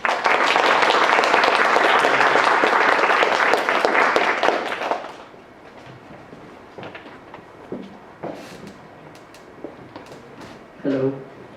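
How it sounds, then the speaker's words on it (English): Warm audience applause welcoming a speaker for an opening talk at a conference. Dense clapping lasts about five seconds, then cuts off, leaving quiet room noise, a few scattered sounds and a brief voice. "please give a warm round of applause to Dr."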